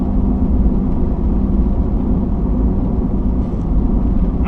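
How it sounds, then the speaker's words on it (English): Steady low engine rumble and road noise from inside a vehicle cruising along, continuous and fairly loud with no voices over it. "I'm driving to the next job right now"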